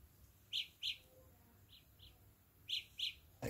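Samsung Galaxy Buds sounding the Find My Earbuds tweeting alert through a tiny earbud speaker: short paired chirps, fairly faint, repeating in a rhythmic pattern with pauses between groups.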